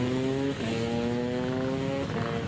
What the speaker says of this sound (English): kicked off by Patrick Evans in the KTM, Austrian-built KTM.